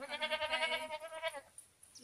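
A farm goat in a village milking area gives one long, wavering, quavering bleat at close range, then falls quiet except for faint background rustling.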